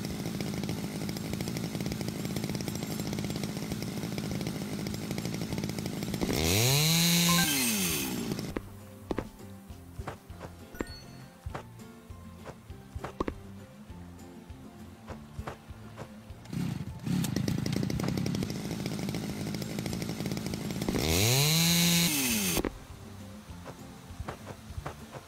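A tree being sawn through in the game House Builder makes two loud, droning chainsaw-like bursts, each several seconds long with a rising and falling whine, separated by quieter background music.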